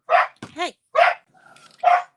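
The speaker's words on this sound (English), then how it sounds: "She loves to bark." A sassy pet dog barks in short, loud, close bursts, three sharp barks spaced apart with a brief whine or yip between them.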